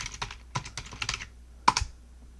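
Someone types a command on a computer keyboard, a quick run of close, crisp key clicks in small bursts, ending with one firmer keystroke before silence.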